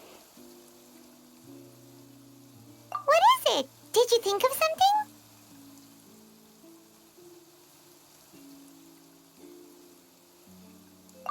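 Steady, soft rain patters in Genshin Impact beneath sustained, gentle musical tones, with a character's voice speaking briefly in the middle while the downpour continues as a faint, even hiss.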